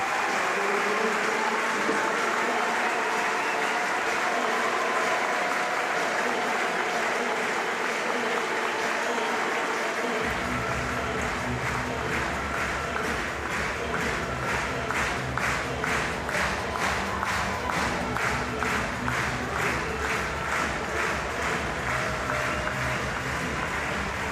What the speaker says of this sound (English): Paralympic champions are leaving the arena to rapturous applause